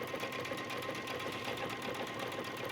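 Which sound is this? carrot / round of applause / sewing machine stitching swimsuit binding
sewing machine stitching swimsuit binding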